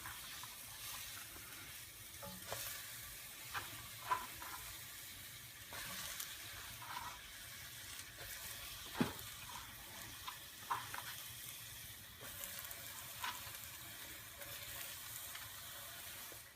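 Green curry chicken being stirred in a pan without oil, a faint, steady sizzle broken by soft scraping and clinking knocks at irregular moments.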